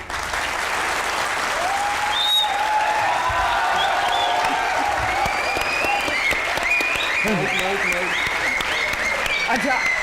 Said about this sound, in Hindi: नहीं, इससे ज्यादा तालियां नहीं बज सकती, रहने दो